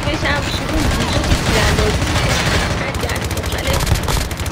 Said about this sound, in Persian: تیراندازی